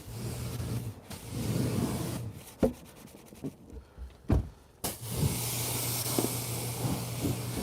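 Clay bar rubbing across the paint of a 2018 Mercedes S63 AMG, a steady close scraping hiss that comes in long strokes, pauses briefly with a few sharp knocks, then resumes.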